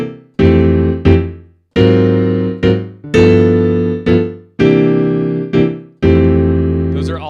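Jazz guitar comping through a sequence of drop 2 chord voicings on a standard, with about ten short chord strikes in a loose rhythmic pattern, played clearly and close with no talking.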